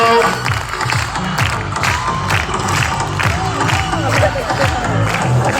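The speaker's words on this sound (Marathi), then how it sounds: "जोरात टाळ्या त्यांच्यासाठी झाल्या पाहिजे।" An audience at a girls' high school Women's Day event in Nandurbar applauds and cheers, with loud, dense clapping and shouts that continue throughout.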